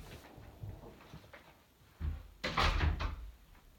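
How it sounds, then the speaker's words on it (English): A door being shut in a room during an update on Denver International Airport, giving a short burst of bangs and rattles after quieter handling noise, fairly close and loud, with no talking. "I'm gonna close the door real fast, get rid of some background noise"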